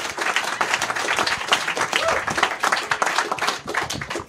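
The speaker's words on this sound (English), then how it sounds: "How about a round of applause for both of them" Live audience at a comedy show claps and cheers for two comedians, a dense, steady burst of applause filling the room from start to finish.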